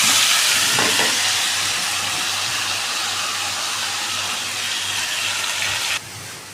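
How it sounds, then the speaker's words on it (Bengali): Small diced potatoes frying in hot oil in a pan for fried rice, a steady loud broadband sizzle throughout, close up, with a brief drop in intensity near the end. "ছোটো ছোটো করে আলুগুলো ভাজি করতেছি। এখন তেল কমে গেছে"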